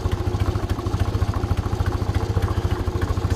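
Engine of a 1945 Ford 2N tractor with a failing water pump, running close by in a steady, fast chugging rhythm of even low pulses with light mechanical clatter.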